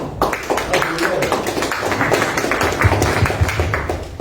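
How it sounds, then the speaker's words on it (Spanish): Audience applause at a panel discussion, a steady patter of many hands clapping, moderately loud and continuous across the whole stretch, with a few sharper claps standing out near the end. "Un aplauso para la..."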